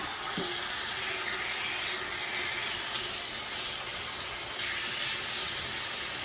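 London broil steak sears in a hot cast iron skillet, giving a steady, dense sizzling hiss that holds evenly throughout with no talking.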